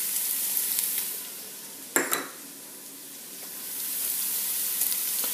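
Vegetables with garlic and bay leaves cooking in a pan for coq au vin, a steady close sizzle broken by a sharp clink of a utensil against the pan midway, with no talk.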